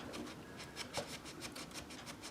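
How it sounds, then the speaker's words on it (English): Sandpaper wrapped around a sharp point rubs back and forth over a lacquered guitar finish, working into a corner with quick, even strokes, close and fairly quiet, with no talk. "so I can wrap my sandpaper around that sharp point and then do all of the necessary"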